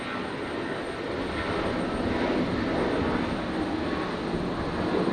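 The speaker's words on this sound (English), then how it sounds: "Jetstar 821 here, just about to rotate" A Jetstar airliner rotating on its takeoff roll at Brisbane Airport, bound for Sydney, on a stormy night: a steady, broad jet roar at moderate distance that swells slightly and holds throughout, with no voices.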